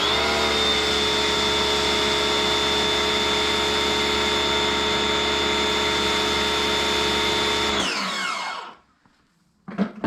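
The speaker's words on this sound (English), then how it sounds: "So as for the sunjoe pressure washer, it is definitely louder." A Sun Joe pressure washer runs steadily with a loud, constant motor whine for about eight seconds, then shuts off and winds down, leaving near silence broken by a couple of faint knocks.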